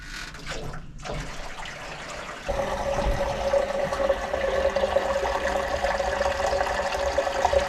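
Water pours into a gutter and runs down into an IBC tote. A quieter rustle comes first, then a sudden loud, steady gush keeps rushing and splashing to the end.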